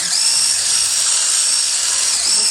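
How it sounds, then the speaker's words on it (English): Electric whisk mixing peanut butter biscuit dough, a steady high-pitched motor whine with a slight wavering tone, close and continuous throughout. "then you've got to whisk this all up again"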